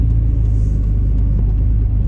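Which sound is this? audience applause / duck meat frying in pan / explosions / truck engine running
truck engine running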